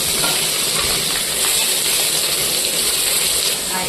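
Green chillies dropped into hot oil with fried crushed garlic give a steady, close, loud hissing sizzle that holds evenly throughout with no talking.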